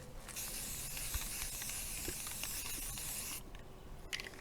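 Aerosol spray paint hissing steadily as a base coat goes onto a rifle, a close, continuous broadband spray lasting over three seconds, then a short pause and a couple of brief bursts.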